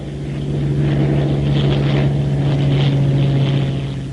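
A P-39 Airacobra fighter's piston engine roars during takeoff, a loud, steady, close drone with a sustained low hum and no voices.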